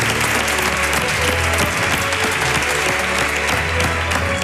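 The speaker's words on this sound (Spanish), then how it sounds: "este aplauso es tuyo también" Dense, loud audience applause at a televised talent show final, sustained clapping from a large crowd throughout with no letup.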